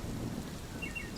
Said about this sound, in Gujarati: મૂશળધાર વરસાદના કારણે બુલબુલ અને શંભુ ઠંડીથી કાંપી રહ્યા હતા.